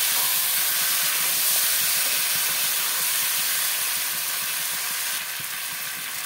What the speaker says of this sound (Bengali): চিকেনটা ভালোভাবে কষানো হয়ে গেছে, দিয়ে দিলাম আলু। আলুর সাথে কিছুক্ষণ কষাবো।